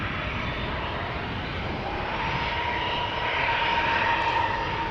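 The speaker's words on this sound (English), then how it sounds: "Real bizjet." A business jet roars steadily at Amsterdam Schiphol Airport, its broad engine rumble holding loud and close, swelling slightly toward the end without any talk.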